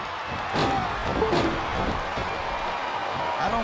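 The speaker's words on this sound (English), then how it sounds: "It sounds like this capacity crowd has something on their minds" A capacity arena crowd roars steadily at a wrestling event in WWE SmackDown vs. Raw 2007, with dense, continuous cheering swelling slightly in places.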